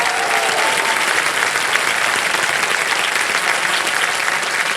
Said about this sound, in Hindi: जोरदार तालियां बज जाए सोनाली जी के लिए।